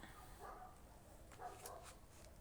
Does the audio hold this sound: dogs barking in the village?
yes